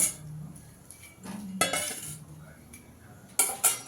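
Fried fish and eggplant go into a pan for a mourola fish curry, with a few close metallic clinks and scrapes of utensils against the pan and a brief soft sizzle between them.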